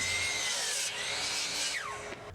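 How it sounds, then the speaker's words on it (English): A chop saw trims the snipe off both ends of a wooden bed board, cutting it to final length: a loud, steady high whine of the spinning blade through the whole stretch, dropping in pitch near the end as it winds down. "Then over to the chop saw to remove that little bit of snipe that's left on both ends"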